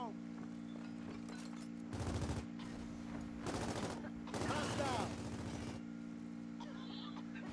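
Lancer rifle fire in a Gears competitive match, heard as three loud bursts of rapid automatic gunshots separated by pauses over a steady humming background.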